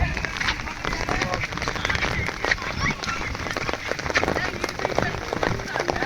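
Rain falls outdoors at an Independence Day picnic, a dense, steady patter on surfaces nearby, with people talking over it.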